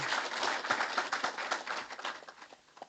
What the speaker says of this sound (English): Give a round of applause to Isaac Gabriel.